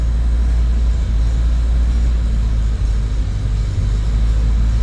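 A 1964 Fiat 600 with suicide doors, its small rear engine started on the key with choke, settles into a loud, steady low rumble at idle, close up, with a couple of brief dips in the note.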